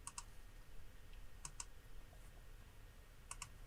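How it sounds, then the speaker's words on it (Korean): Key presses on a computer keyboard while working in 3ds Max: three quiet pairs of crisp clicks spaced about a second and a half apart over a low background hum, with no talking. "키보드에서 N을 누르면"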